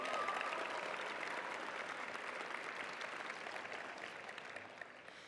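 A crowd at a high school graduation ceremony claps steadily, a broad wash of applause that is fairly distant and gradually thins out over several seconds.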